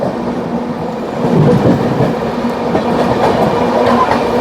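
The Bandra Terminus–Barauni Awadh Express rumbles past close by, a loud continuous roar of wheels and rail clatter with no break throughout.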